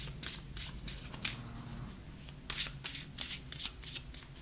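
Tarot cards shuffled and drawn from the deck, quick papery riffles and soft slaps in irregular bursts, close and fairly quiet.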